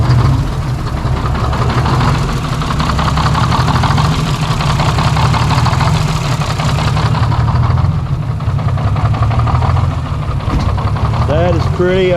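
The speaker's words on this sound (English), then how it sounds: "First time this semi has been cranked since 1995. And it idles." A 6-71 Detroit Diesel in a semi truck idles loud and close with a steady low rumbling clatter, running for the first time since 1995, while people talk briefly over it near the end.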